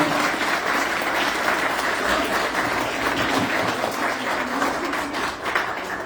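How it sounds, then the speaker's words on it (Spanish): An audience applauds at the end of an astronomy talk at a museum event, dense, sustained clapping from a crowd holding steady and loud for several seconds. "Muchas gracias, un aplauso."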